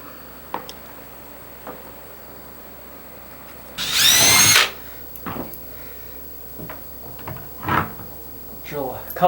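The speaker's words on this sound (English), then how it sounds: "Drill a couple more holes just to take out this last little bit of bowing between the tank and the window" A power drill bores through a polycarbonate window against a fish tank in a greenhouse, one loud whining burst of about a second, followed by scattered knocks and handling noises with a voice speaking nearby.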